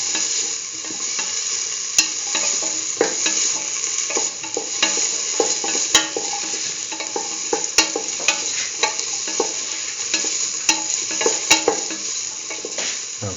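A spoon stirs curried chickpea beetroot stew in a hot pan while it is salted, giving steady scraping and sizzling with small clinks against the pan. The stirring runs continuously throughout, close and moderately loud, with no talking.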